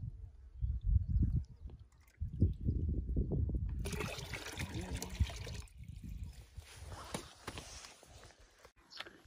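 Clean water flowing out at a temple site, a steady trickling rush that grows brighter midway, with low thumps and voices nearby in the first half.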